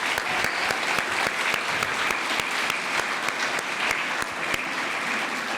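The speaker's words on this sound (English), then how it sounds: "another round of applause" Steady applause fills an awards gala hall, a dense sustained wash of many hands clapping, even and continuous without a break.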